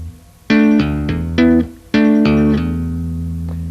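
On electric guitar, a tapped phrase of hammer-ons and double stops moves through several quick, bright notes in uneven bursts, then holds a final ringing chord, clear and close with no voices.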